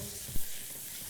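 Diced ham sizzling in its own fat in a pan while being stirred, a steady close crackle with a brief louder stir-scrape in the middle of the short burst.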